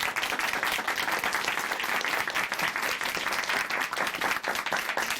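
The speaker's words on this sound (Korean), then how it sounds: "박수로 모시겠습니다." Steady audience applause fills a church stage as a guest from a Chuncheon congregation is welcomed, dense and continuous clapping throughout with no talk over it.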